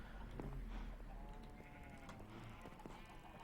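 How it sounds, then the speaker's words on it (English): A sheep in the Minecraft modpack Agrarian Skies 2 gives a few wavering bleats over a steady low background hum, faint and somewhat distant. "a sheep glitching through the wall"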